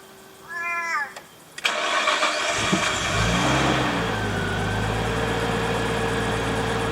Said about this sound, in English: I'll roll it out the front and we'll start it up.